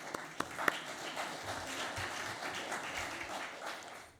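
Audience applause at a business forum's real estate summit, a soft, fairly distant wash of clapping with a few sharper claps near the start, steady and faint.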